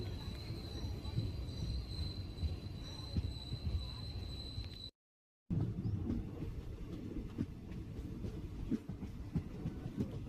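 A Madurai to Sengottai passenger train arrives at Srivilliputhur station, rumbling steadily nearby with a low, rolling drone and a faint high whine, cut by a brief silence before the rumble resumes.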